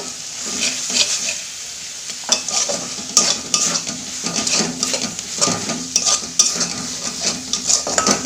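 Spices sizzling in oil in a pan for a Bengali taro and shrimp curry, stirred with a metal spoon, giving steady frying hiss broken by repeated scraping and clinking against the pan.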